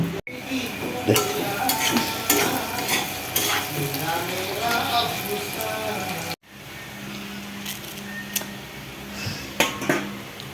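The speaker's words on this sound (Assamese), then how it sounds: "এয়া কেৰাহীত পিঁয়াজ বহাই দিছোঁ" Onions sizzle and fry in a kadai on a home stove, a steady crackling hiss broken by scraping and clinking of a stirring spoon, with a brief cut midway and the sizzle continuing after.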